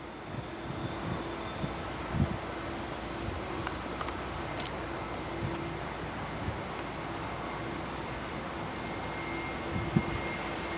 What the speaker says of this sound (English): so there goes one Dreamliner for American